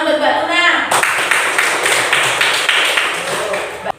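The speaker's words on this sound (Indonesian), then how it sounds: "Ya, tepuk tangan buat Mbak Luna." Dense applause from a classroom group breaks out after a voice, with many hands clapping steadily at close range for a few seconds.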